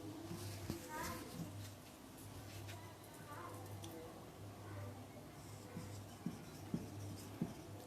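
Marker or chalk writing on a board during a surface chemistry lecture, faint scratchy strokes and taps over a steady low hum, with light ticking sounds and no speech.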